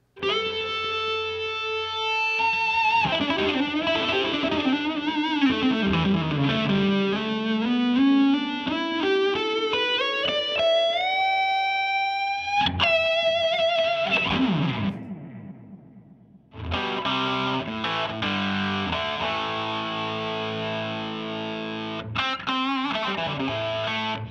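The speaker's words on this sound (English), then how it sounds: "the grit control blends a rich harmonic distortion into the compressor's audio path" A gritty, distorted electric guitar through a Pigtronix Philosopher King compressor-sustainer with harmonic distortion rings out with sustained chords and a rising slide, pauses briefly, then returns thick and compressed.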